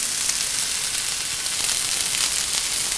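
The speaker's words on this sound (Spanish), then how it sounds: "Marcamos el atún por los 4 o 6 lados" Tuna sears in a very hot frying pan with a loud, continuous hissing sizzle that holds steady throughout, close and without voices.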